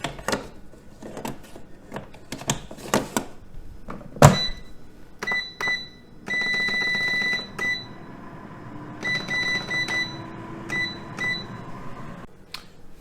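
A kitchen air fryer cooking a zucchini bake, with scattered clicks and handling knocks, then a steady hum and a series of sharp, repeated electronic timer beeps, fairly close and alone without talk.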